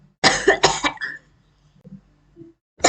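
Two sharp coughs close to the microphone, followed by a brief throat clear in an otherwise quiet room.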